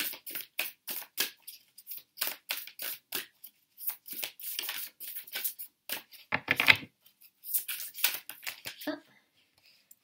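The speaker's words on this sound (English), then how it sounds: "I'm also going to just shuffle for a Universe Has Your Back" Oracle cards from a Universe Has Your Back deck are shuffled by hand, giving a quick series of crisp riffling and flicking bursts, close and fairly quiet, broken by brief pauses.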